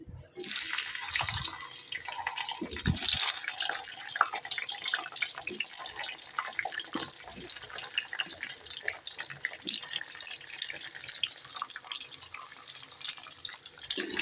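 Ivy gourd tossed into hot oil, giving a steady crackling sizzle with many small pops that stays fairly faint and continuous throughout.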